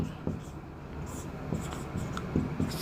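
Pen or chalk scratching out short strokes while writing during a maths lecture, faint and intermittent under a voice speaking Hindi.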